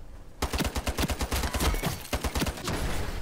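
Rapid gunfire rattles out in the online shooter Ironsight, bursts of sharp, loud shots at a quick rhythm after a brief quiet start, with a short gap before another burst.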